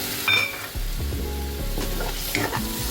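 Soaked urad dal hits a hot pan with a loud, steady sizzle and frying hiss, broken by a few metallic clinks and scraping stirs of a spoon against the pan.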